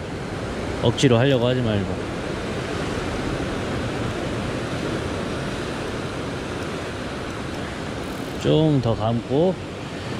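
Ocean waves surge steadily against a sea cliff during a cliff-top float fishing outing, a continuous broad wash of surf, with someone speaking briefly at the start and again near the end.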